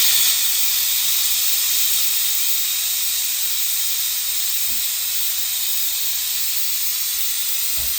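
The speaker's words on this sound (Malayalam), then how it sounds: "നാലാമത്തെ വിസിലും അടിക്കാൻ പോവാണ്" A pressure cooker cooking mutton curry releases steam through its whistle as a loud, continuous hiss that holds steady from start to finish.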